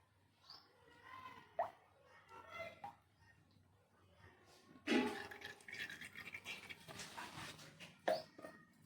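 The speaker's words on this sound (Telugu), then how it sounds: "ఆయిల్ పోసుకోవాలి." Cooking oil poured into a pan for frying a large batch of prawns for a prawn and gongura pickle, giving a soft splashing, trickling pour with a few plops and knocks around it, close and fairly quiet.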